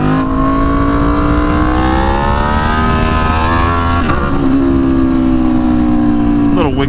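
Aprilia Tuono V4 1100 Factory revving hard during a wheelie: a loud, close engine roar that climbs steadily in pitch, dips briefly, then pulls again over constant wind buffeting.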